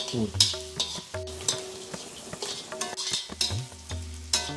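Onion frying in oil with green chilli, ginger and curry leaves for lemon chitranna, a close sizzle broken by several distinct stirring scrapes and clanks of a ladle against the pan, no talk.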